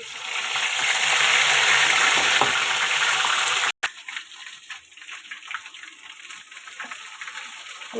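Ginger garlic paste spluttering in hot oil, a loud hissing burst that drops abruptly partway, then lighter crackling and popping sizzle continues near and alone.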